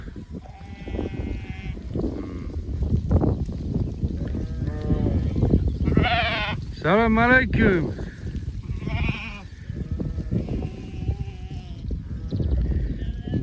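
Young lambs bred for breeding stock bleat repeatedly in a flock, high wavering cries rising over a steady bed of livestock noise, with someone talking and greeting nearby throughout.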